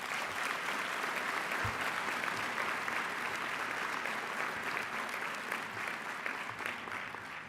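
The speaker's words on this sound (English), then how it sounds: "Can we give them a round of applause?" A graduation audience at the Odyssey Institute claps for the school's founders, a full, continuous roll of applause from a sizable crowd that holds steady throughout before easing off at the close.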